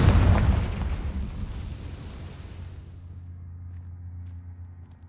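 Confringo spell blast in the Hogwarts Legacy video game: one loud booming explosion at the start that rumbles and slowly fades, leaving a low steady hum.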